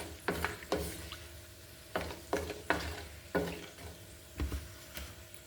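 Whole cloves, cardamom and cinnamon crackle in hot oil for fish salona as a spoon stirs them, giving repeated scraping bursts in an uneven rhythm over a quiet, close sizzle.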